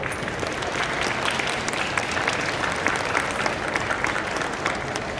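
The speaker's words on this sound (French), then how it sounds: "Vous pouvez aussi l'applaudir." At a manga conference about editors, an audience applauds a guest who is being introduced: dense, steady clapping from a sizeable crowd that stays loud and even for several seconds.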